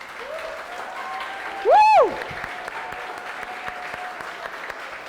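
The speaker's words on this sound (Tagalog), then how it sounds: "Pwede bang parangalan mo ang Diyos sa pamamagitan ng iyong palakpak?" A church congregation at a Sunday service bursts into applause, a bed of steady clapping with one loud whooping cry rising briefly above it near the start.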